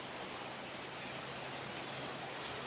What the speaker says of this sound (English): it's raining really hard right now